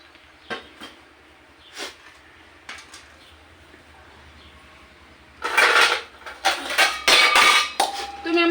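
Ration rice being washed in a metal pot, with sporadic knocks and clinks at first, then a louder stretch of sloshing water, scraping and clattering of grains against the pot.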